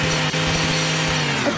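A saw weapon runs in Garry's Mod during an animatronic maze chase, making a loud, steady mechanical whirring buzz with a constant droning tone that lasts without a pause.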